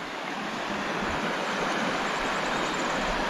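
River swollen after heavy rains in the wild, a loud continuous rushing roar of water, close and steady, with no voices.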